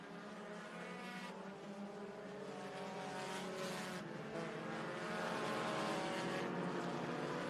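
Race cars in a Keystone Sport Compact Series race in Pennsylvania, their engines a steady, distant droning roar that swells slightly toward the end, with no talk over it.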